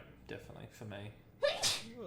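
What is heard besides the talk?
sneeze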